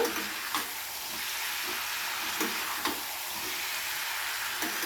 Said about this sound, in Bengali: এবারে এই মশলার সাথে আলু আর পটলটাকে খুব ভালো করে একটু কষিয়ে নেব।